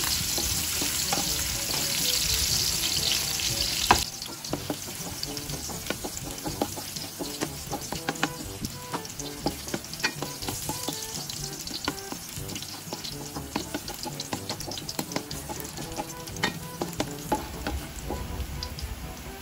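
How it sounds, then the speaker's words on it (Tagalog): Ginger sizzles in a pan, with a bright hissing burst at first and then a steady crackling fry with frequent stirring scrapes, close and fairly loud throughout. "So unahin na natin ilagay ay ang luya"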